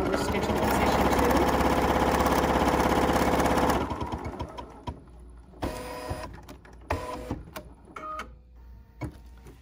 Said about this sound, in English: Now we're stitching position two.